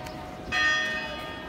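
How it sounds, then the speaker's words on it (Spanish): A church bell in San Miguel de Allende, Mexico, gives a single ringing strike that hums on briefly over a faint, busy background. "Están las campanadas para ti"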